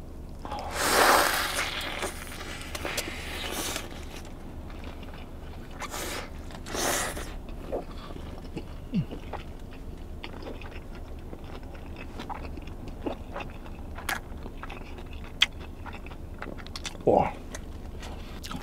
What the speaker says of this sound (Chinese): 咬一口就知道是标准的美式炸鸡